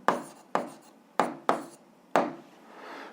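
Chalk or pen strikes a board in five distinct taps with brief scratching strokes while a physics problem is written out by hand, close and fairly quiet, with no talk.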